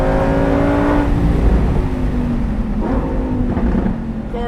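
Lamborghini Performante Spyder with a naturally aspirated engine that revs to 8,500 RPM roars loudly and close, its rising engine note surging and easing through shifts for several seconds without talk.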